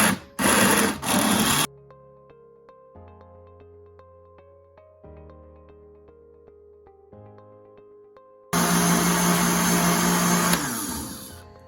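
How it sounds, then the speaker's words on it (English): A blender purees five large carrots for juice, roaring loudly in short bursts at the start and later in a long sustained run. Plain musical tones fill the gap between the bursts. "I had 5 large carrots, and we'll go ahead now and blend."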